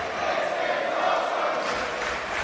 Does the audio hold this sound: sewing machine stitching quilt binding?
no